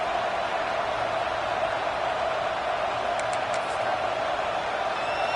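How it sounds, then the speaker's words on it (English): A packed stadium crowd at a Texas versus Penn State college football game produces a steady, dense roar. It stays level and continuous throughout, with no distinct voices standing out. "This crowd ready to make its presence known."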